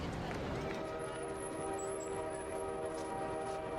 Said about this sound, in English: An official train whizzed by under the dome.